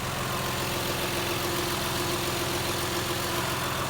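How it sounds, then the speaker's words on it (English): A 2003 Toyota Highlander engine idles steadily and smoothly, a constant low hum with a faint hiss, heard fairly quietly with no other sounds. "runs nice and smooth. Sounds like a Toyota."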